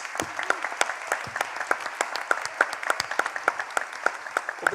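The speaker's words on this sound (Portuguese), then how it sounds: "Uma salva de palmas para eles, por favor." An audience at an education management debate event bursts into sustained applause, many hands clapping in a dense, steady patter that holds evenly throughout at moderate distance.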